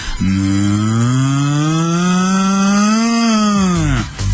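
A cow lets out one long, loud, close moo that holds steady for about four seconds, rising slightly before dropping off at the end.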